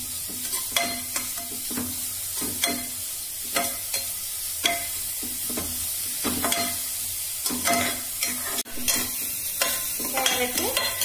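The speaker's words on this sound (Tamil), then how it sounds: "பச்சை வாசனம் போற அளவுக்கு வணக்கி விடுங்க." Carrots sautéed and stirred in a pan, a steady sizzle under repeated scraping strokes of a spoon or spatula in an uneven rhythm, close and alone with no talk.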